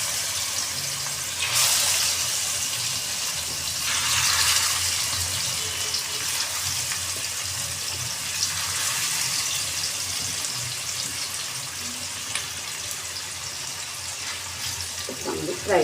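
Surmai fish fillets topped with coriander sizzle in a pan over medium-high heat, a steady close broadband hiss of frying that swells and eases slightly throughout without a break.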